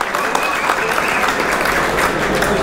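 At an award moment for a sheep entry at a small-livestock festival in İnegöl, Bursa, a crowd gives a loud, close, continuous burst of applause, with a voice audible over the clapping.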